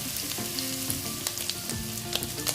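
Grated ginger and garlic sautéing in hot oil in a pan for restaurant-style chicken fried rice, a steady close sizzle with scattered light crackles throughout.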